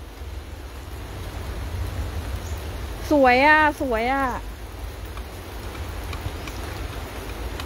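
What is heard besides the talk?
rain falling on a vegetable garden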